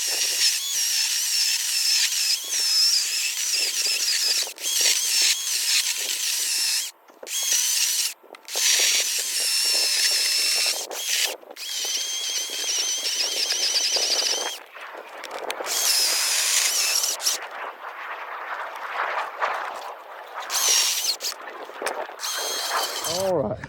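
A Kobalt 14-inch battery-powered chainsaw whines through wood in a thin, high, buzzing drone, broken by several brief stops and restarts as the cut continues.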